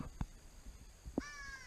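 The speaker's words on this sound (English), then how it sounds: "You can hear the crows," Crows in the Everglades caw outdoors, a couple of harsh calls, the last one loud and close, set against quiet natural ambience.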